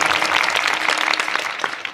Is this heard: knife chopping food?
no